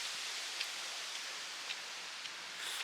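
Rain falls steadily in a small courtyard, a soft, even hiss of drops with a few faint close patters, no voices.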